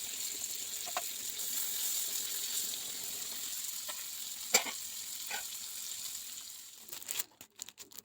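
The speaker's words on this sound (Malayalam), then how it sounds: "ഇനിയിപ്പോൾ പപ്പടവും കൂടെ ഒന്ന് വറുത്തെടുക്കട്ടെ" Pappadam frying in hot oil in a village kitchen, a continuous hissing sizzle with a few crisp pops and a brief scrape, then rustling handling noises near the end, close by with no voices.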